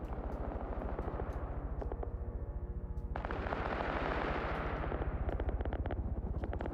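Dense gunfire barrage in an online military shooter battle, with rapid machine-gun bursts and heavy booming impacts rolling continuously and loudly, intensifying midway into a thick, sustained roar of overlapping shots.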